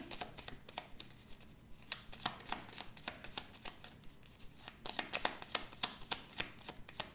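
Tarot cards are set down one after another on a table, a quick series of crisp slaps and soft flicks at a steady, uneven rhythm, close and fairly quiet with no voices.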